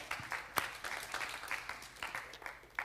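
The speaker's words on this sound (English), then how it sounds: "A huge round of applause for all of you" Applause from participants at the close of a discussion session, a dense, continuous wash of many hands clapping, fairly faint and distant, with no talk over it.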